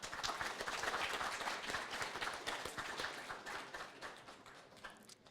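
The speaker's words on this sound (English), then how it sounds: "So another round of applause." Applause from a conference audience at an AI startup awards event, a steady wash of many hands clapping that slowly thins and fades near the end, heard from some distance.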